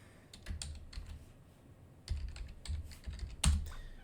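Password typed on a computer keyboard while setting up storage on an Ubuntu server, quick bursts of close, soft key clicks with a short pause between the bursts.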